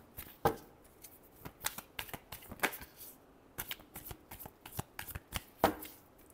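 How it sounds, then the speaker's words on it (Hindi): A deck of tarot cards is shuffled by hand in crisp, irregular riffling bursts and sharp taps, close and clear with no talk. "Last shuffle."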